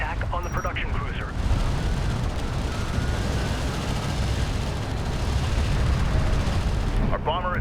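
Steady, dense gunfire and explosions pound units in Homeworld: Deserts of Kharak, a continuous roaring barrage of rapid shots and blasts, with radio voices briefly at the start and end.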